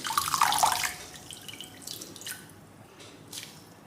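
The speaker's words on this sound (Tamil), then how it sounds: "நல்லா தண்ணியை பிழிஞ்சிடணும்." Water drips and splashes as soaked dough for roti is squeezed out by hand, with a louder burst of trickling at the start, then scattered fainter drips that fade away.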